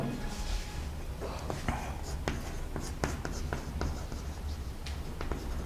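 Marker or chalk scratching on a board during a chemistry lesson, a steady run of short strokes and taps in a roomy space, with faint speech underneath.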